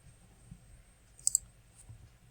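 Two quick computer mouse clicks sound close together in an otherwise quiet room, sharp and light, with a faint third click just after.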